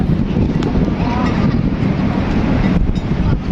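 Steady, loud wind roar buffets the microphone throughout, a constant broadband rush with no pauses.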